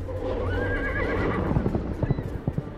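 A snow-white winged horse in the video game Argonus and the Gods of Stone gives a loud, quavering whinny, followed by a run of close hoof clip-clops on the ground.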